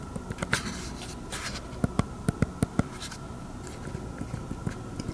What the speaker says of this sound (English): the 3 keys that are almost non-functional do not click. They just make like a really subtle bump noise.